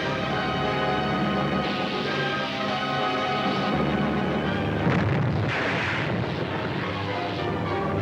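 Naval deck gun booms in a radio drama, a dense rumbling barrage of blasts with aircraft-like roar behind, loud and continuous throughout with a sharper burst near the middle.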